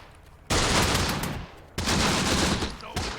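Machine gun fire in the Close Combat war game comes in two loud, sustained bursts of rapid rattling shots, with a short pause between them and a third burst starting at the end.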